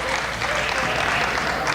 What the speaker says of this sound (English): Please, no applause, no applause.